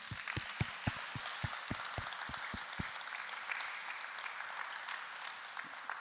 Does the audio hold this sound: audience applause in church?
yes